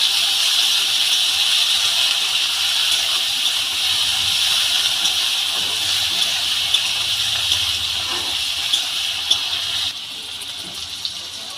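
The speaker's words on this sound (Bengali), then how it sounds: "সিদ্ধ করে রাখা ডুমুরগুলো আমি তেলের মধ্যে দিয়ে দিলাম ডুমুরগুলো দিয়ে তেলের মধ্যে খুব ভালো করে ভেজে নেব" Boiled figs fry in hot oil for a Bengali vegetarian dumurer dalna, producing a steady, loud hissing sizzle that continues throughout with a few faint clicks, easing slightly near the end.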